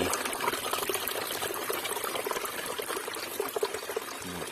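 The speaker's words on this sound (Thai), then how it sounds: "น้ำไหล" Steady rushing water flows continuously in a mountain valley stream, a broad close splashing wash with no voices.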